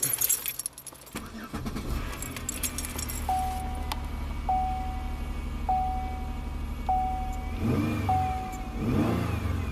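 A GM vehicle's engine cranks, catches and settles into a steady idle, with keys jangling at the start and a repeating chime tone sounding during the run.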